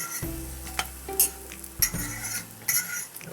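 French toast bread cooking in a carbon steel pan, with a steady sizzle broken by a few sharp scrapes and clinks as the slices are moved and flipped, close and moderately loud.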